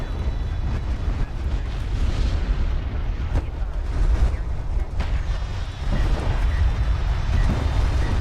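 Railgun fire tears into a carrier during a Homeworld space battle, a dense run of heavy booms and rumbling blasts that overlap and swell, with faint voices underneath.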